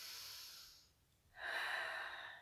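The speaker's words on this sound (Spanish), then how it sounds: "respira profundo" Deep nasal breathing during a yoga breathing exercise in an introductory class: a long, soft airy breath fades into a brief pause, then a stronger, close rushing breath follows.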